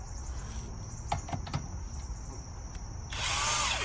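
An impact driver loosens the lug nuts on a Honda Civic wheel, with several short bursts of hammering followed by a louder sustained whir near the end, close by, over a faint background hum.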